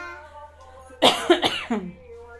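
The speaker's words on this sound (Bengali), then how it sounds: "আমার কাশি হয়েছে ঠান্ডা লাগছে আমার" A child coughs several times in a short burst, a harsh close cough followed by a few quicker hacks in a quiet room.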